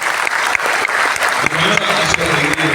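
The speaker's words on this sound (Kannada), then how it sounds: "ಹಾಗಾಗಿ ನಾವೆಲ್ಲರೂ ಯಕ್ಷಗಾನಕ್ಕೆ ಒಂದು ದೇವರಾದ ಕೈ ಚಪ್ಪಾಳೆ ಕೊಟ್ಟು" An audience at a Yakshagana event in Udupi claps steadily, dense sustained applause filling the space, loud and continuous throughout.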